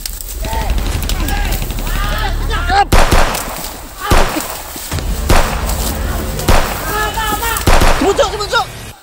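Gunshots or firecrackers going off outdoors during a heated shouting scene, several loud sharp bangs spaced a second or so apart under continuous agitated voices.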